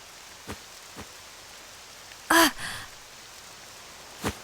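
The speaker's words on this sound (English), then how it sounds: "It's the rain!" Rain in a video game falls as a steady, soft patter, with a few sharper drops and a short breathy gasp or sigh in the middle.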